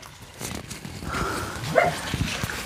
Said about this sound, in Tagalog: Mukhang maraming aso.